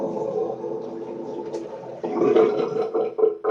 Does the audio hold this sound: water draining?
yes